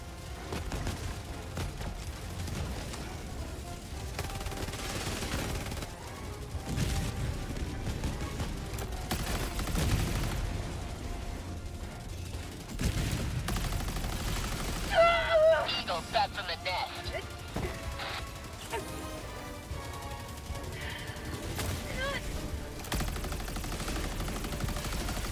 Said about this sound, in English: I'm getting sniped from on top here.